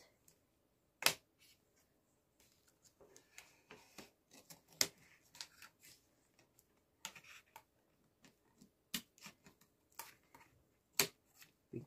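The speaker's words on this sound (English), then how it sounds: "Scissors, baby." Scissors snip through plastic toy packaging for a Hasbro Jules and Midas Rex figure set, giving sharp, irregular clicks and cuts scattered across the stretch, with quiet gaps between the snips.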